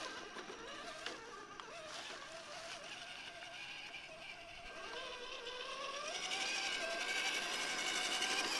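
An Rc4wd Trail Finder 2 RC truck with a 1979 Chevy K5 Blazer body runs at full speed, its small electric motor giving a steady whine that rises in pitch and grows slightly louder toward the end.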